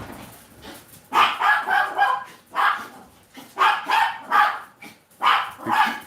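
Dogs barking in repeated bursts, several close, loud barks in clusters with short pauses between, no talk over them.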